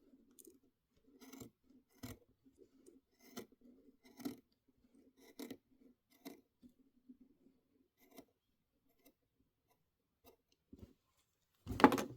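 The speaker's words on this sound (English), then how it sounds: "I'm going to use my double curved scissors because I feel like I'm going to need a little more heft." Double curved scissors snip through fabric and applique pieces for a quilted winter block, giving a run of short, quiet cuts in an uneven rhythm, each close, with a louder rustle of handling at the end.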